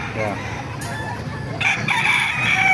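Lemon sweater gamecock roosters crow repeatedly over steady farmyard background noise, with clucking and overlapping calls growing louder toward the end.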